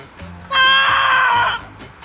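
A woman lets out one loud, sustained scream to relieve tension, lasting about a second, preceded and followed by quieter room noise.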